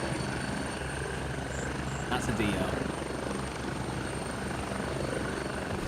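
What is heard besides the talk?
helicopter arriving, from the video game Gray Zone Warfare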